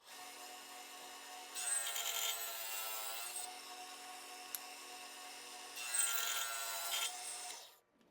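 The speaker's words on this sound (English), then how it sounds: "Take the fence, push it back up, tighten it back up, and cut another piece." Saw cutting a small wooden piece against a fence while building a model ship's forecastle bulkhead: a steady machine whine with two longer rough cutting passes, close and moderately loud, no speech.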